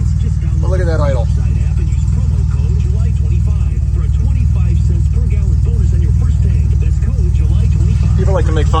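A DeLorean engine with K-Jet fuel injection idles in a steady, even low rumble throughout, with someone talking over it.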